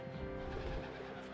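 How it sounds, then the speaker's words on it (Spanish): Pigeons coo in a church bell tower, soft low throaty calls that rise and fall steadily over a faint hum, near and alone without talk. "Las palomas."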